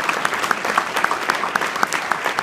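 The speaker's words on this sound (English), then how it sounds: "Could you guys please give them a round of applause?" An audience at an Eagle Scout ceremony claps for the Scoutmasters, individual hand claps standing out in a fairly even, moderately loud patter with no speech on top.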